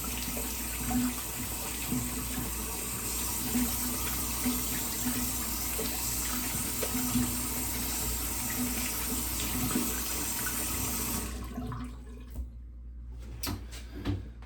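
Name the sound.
rinsing hands under running tap water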